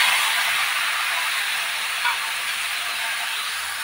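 Cumin and spices sizzle in hot oil in a pan for an ilish fish curry, making a steady, broad hiss that fades slightly over a few seconds, with one brief pop partway through.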